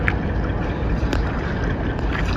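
A fishing-area boat moving across open water, a steady broad engine-and-water rush with wind buffeting the microphone, continuous and fairly close for the whole stretch.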